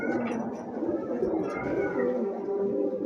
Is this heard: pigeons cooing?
yes